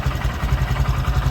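A 2020 Honda Grom motorcycle idles just after an oil change, its small engine putting out a steady, rapid low-pitched putter with light mechanical clatter, close and alone.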